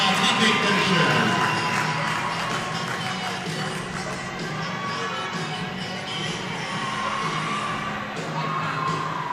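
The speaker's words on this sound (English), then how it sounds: "One more round of applause" Crowd at a swim meet cheering and applauding for swimmers, a steady wash of clapping and shouting voices that holds throughout at fairly even loudness.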